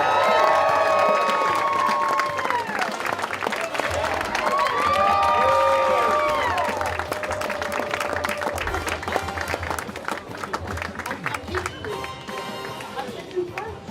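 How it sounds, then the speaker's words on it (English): A convention crowd at a comic con applauds and cheers for the introduction of guests, with sustained clapping and whoops filling the space while a few voices shout over it throughout. "Adam wants me to give him a bigger round of applause"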